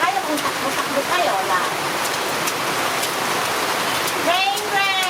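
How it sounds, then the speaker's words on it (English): Rain falls steadily outdoors in the Philippines, a constant broadband hiss of drops on surfaces, while children's voices shout and squeal over it near the end. "Rain, rain!"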